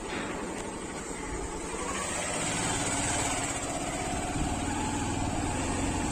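A motorbike engine buzzes and grows gradually louder as it approaches on a forest department campus, a steady, busy drone rising slightly over several seconds.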